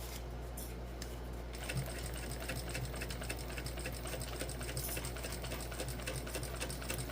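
A sewing machine runs steadily, stitching a Zuri crossbody bag, with a close, continuous mechanical whir and a rapid needle rhythm throughout.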